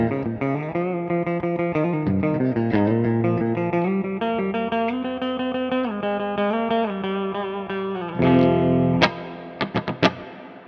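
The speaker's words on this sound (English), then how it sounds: "here's the spring reverb" An electric guitar played through an Orange Crush CR120 amp with spring reverb on, its distorted chords ringing out in a steady strummed run, then a few sharp stabs with a splashy reverb tail near the end.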